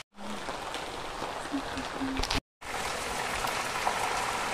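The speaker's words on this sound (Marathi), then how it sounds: "कसा वारा पाऊस चालू झालाय बा हा." Wind-driven rain falling steadily, a dense continuous patter and hiss with a short dropout midway and a faint tone early on, no clear speech.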